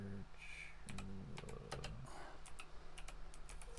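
Fingers tap a computer keyboard at close range in quiet, irregular clusters of sharp clicks with a faint hum underneath.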